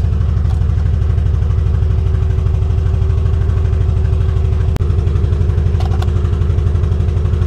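Rolls-Royce engine with a dead transmission idling steadily up close, a low even rumble broken by one sharp click partway through, no talk.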